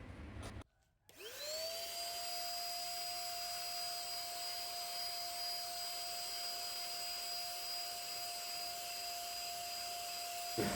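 An H&L HL419 electric paint sprayer starts up after a brief pause and blows air with a steady, high-pitched whine and constant hiss. It holds an even pitch and level for about ten seconds, close and alone.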